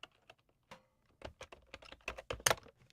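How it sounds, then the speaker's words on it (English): Keystrokes on a computer keyboard while entering a name with the text tool in Adobe Premiere Pro, a quiet string of irregular clicks that speeds into a denser burst near the end, heard alone. "type in Cheryl's name"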